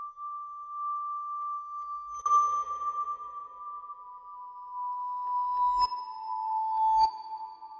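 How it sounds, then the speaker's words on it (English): A synthesized bell patch from a Vital preset pack holds a steady pitched tone, with bright metallic strikes entering around two seconds in and two sharper hits near the end, played alone at moderate level. "I printed out one of the bells from our vital pack, and it sounds like this"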